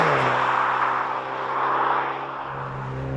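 A MINI John Cooper Works GP with an eight-speed ZF torque-converter automatic pulls hard on a road stretch, its engine a steady, loud droning hum that holds close and constant.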